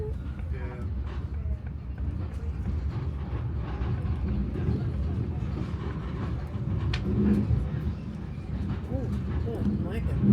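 Train passing on a heritage railway through rolling countryside, a low rumbling rolling sound that swells toward the end, heard under people talking nearby.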